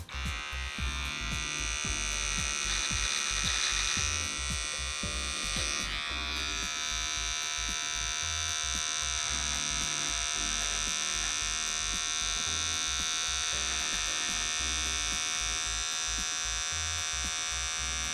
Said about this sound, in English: don't chomp in with the trimmer, okay? Just skim the surface if you want